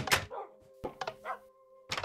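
Dogs in the Minecraft video game give several short yips and barks, close and fairly loud, separated by brief quiet gaps, over a faint steady background tone.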